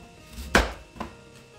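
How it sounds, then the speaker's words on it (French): A knife slices through an apple on a board, one sharp, close cut followed by a lighter second tap of the blade, with no voices. "Vous pouvez ensuite la couper en deux."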